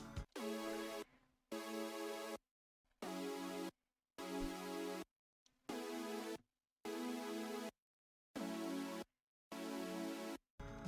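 A synth chord pattern chopped by a two-beat gate effect in an emotional song production, sounding as evenly spaced bursts of sustained harmonic tone with sharp silent gaps between them, about eight pulses, loud and alone.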